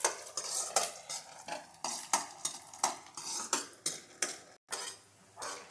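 Peanuts fry in oil in a pan for vegetable fried rice, stirred with a utensil that scrapes and clinks in a steady, close rhythm over a faint sizzle, with one brief silent break and no talking.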